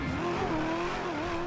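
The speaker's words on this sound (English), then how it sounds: "Seriously, it sounds like there's some kind of airplane turbine in there." A car engine in the GTA 5 video game roars with a steady, loud whining drone like an airplane turbine, sustained throughout with tire noise underneath.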